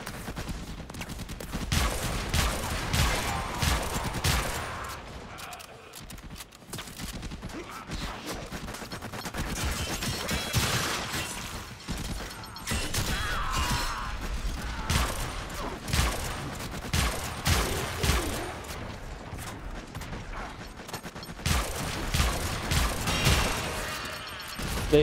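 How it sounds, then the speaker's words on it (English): Dense, loud gunfire and repeated grenade blasts crowd a Warframe firefight, bursts and booms overlapping almost without pause, dipping briefly near the middle before the chaos resumes. "There's so much grenade shit going on here that... kinda crazy, actually."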